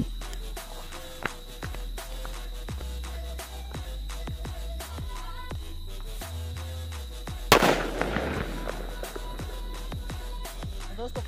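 A string of sharp Diwali firecracker bangs popping in quick succession, then a louder burst with crackling debris around the eight-second mark, heard outdoors.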